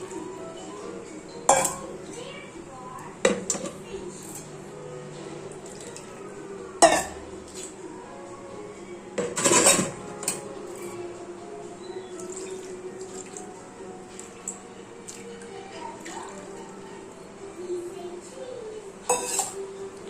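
Oily metal puja vessels clink and knock intermittently against running hot water in a sink, with sharp isolated clanks between quieter washing and scrubbing.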